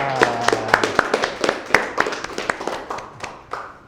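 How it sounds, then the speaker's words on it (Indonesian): Scattered, uneven hand claps from a small classroom group applauding the students of group 3 after their presentation, a couple dozen sharp slaps over a few seconds that thin out toward the end. "Kita kasih aplaus dulu untuk kelompok 3"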